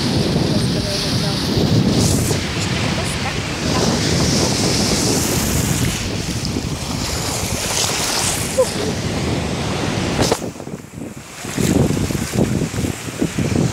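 Sea waves roll in at a sunny beach, a loud continuous surf roar mixed with wind buffeting the microphone, with voices talking at times over the wash.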